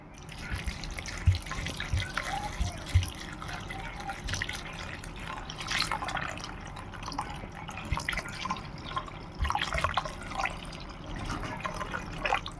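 Water poured into a pot of bitter gourd and lentil mixture as it is prepared for a thick dal, giving a steady close splashing trickle with small drips, without talk.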